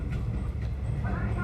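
Train running on the Geibi Line between Hibayama and Bingo-Ochiai, heard from inside the carriage: a steady low rumble and hum of the moving railcar, continuous and fairly loud with faint rattling over it.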